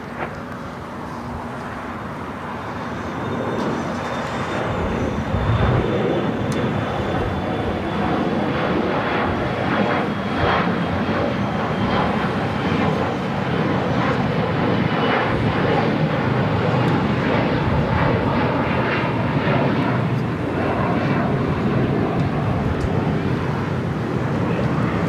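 A United Express SkyWest Embraer E175 jet takes off from LAX, its engines building from a low rumble into a sustained broadband roar with a faint whine on top, heard from a distance with some wind noise.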